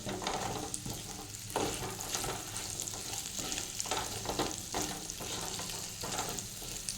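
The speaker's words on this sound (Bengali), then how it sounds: "আলুগুলো ভাজা হয়ে গেছে" Boiled potatoes fry and get stirred in a pan, a steady close sizzle with scraping stir strokes running throughout, no talking.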